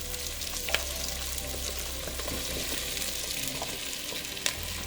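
Zucchini and onion cooking in a frying pan, a steady moderate sizzle with a couple of sharp utensil clicks and a low background hum, no speech.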